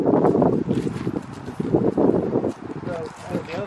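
Strong wind gusting outdoors, buffeting the microphone in rough rumbling bursts while a person talks over it.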